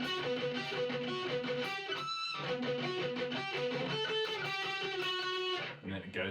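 Distorted electric guitar playing an intro riff, a fast, dense stream of picked notes with a short gap midway, loud and up close.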